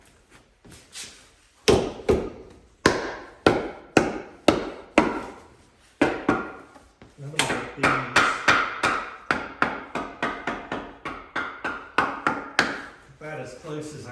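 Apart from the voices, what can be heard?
rounding hammer striking metal on a railroad track anvil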